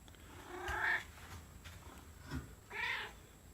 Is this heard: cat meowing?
yes